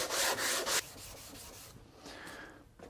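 Hand sanding of a small wooden mitered box, with steady scratchy strokes that run loud for under a second, then quieter rubbing continues close by, with no talking.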